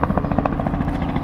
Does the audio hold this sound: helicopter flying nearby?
yes